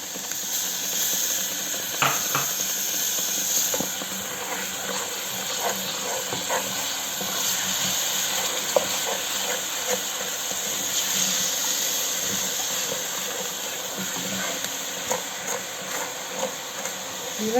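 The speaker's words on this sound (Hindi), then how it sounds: "अब जी टमाटर की प्यूरी डाल रहे हैं।" Tomato puree hits a hot pan for a masala daal mash and sizzles with a continuous close steamy hiss, broken by scattered pops and light clinks throughout.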